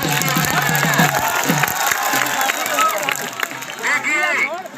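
A crowd at an outdoor dangal wrestling match in Rajasthan claps and cheers, with rhythmic clapping at first giving way to a dense, lively roar of shouts and applause, heard close and loud.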